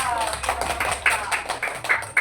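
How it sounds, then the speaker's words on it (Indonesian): Students in a classroom clap for the winning group, a brief scattering of sharp, uneven hand claps heard alongside nearby voices. "Tepuk tangan untuk kelompoknya Angga"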